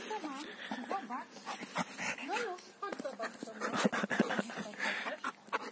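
Dog panting rapidly and letting out high, wavering whimpers and yips at an outdoor spot with alpacas, loud and close, while several people talk over and between the sounds.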